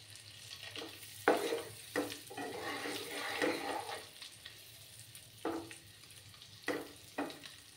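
Eggs frying in a pan for an egg masala curry give a steady close sizzle, broken by several sharper crackling bursts as they are stirred or turned. No one speaks.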